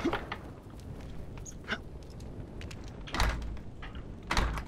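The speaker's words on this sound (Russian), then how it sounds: "А дверь заперта, слушайте." Locked door being tried in the Apotheon video game, a couple of loud rattling thumps from the handle and frame amid quieter shuffling and clicks, no voices.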